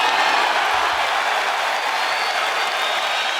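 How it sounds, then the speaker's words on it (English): Boxing arena crowd during a Brandon Rios vs Mike Alvarado fight, a steady, loud roar of cheering and applause filling the hall at the bell, continuous and dense throughout with no clear pauses. "just listen to the crowd as we go to the bell"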